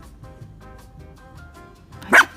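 A dog gives a single sharp bark near the end, loud and close, after a stretch of quiet tonal background sound.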